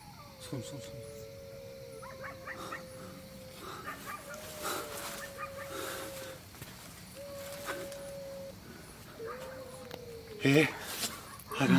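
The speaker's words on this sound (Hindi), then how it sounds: "कुत्ता रो रहा है" A dog cries at night near a hut, drawn-out whimpering howls rising and falling several times over faint background noise, with a few sharp sounds near the end and people speaking quietly at times.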